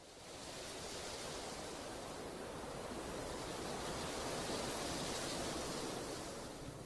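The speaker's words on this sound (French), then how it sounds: "Et maintenant, je voudrais enregistrer le vent." A broad, steady rush of wind blows without a break, swelling slightly and then easing, with no voices.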